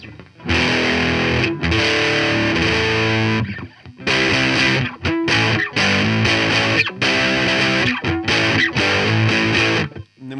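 Heavily overdriven electric guitar through an overdriven amp plus an overdrive pedal, playing chunky chords in bursts, thick and saturated with transients lost, with short pauses between phrases.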